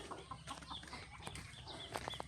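Chickens cluck softly in short, scattered bursts, with a few sharper calls near the end, close by and fairly quiet.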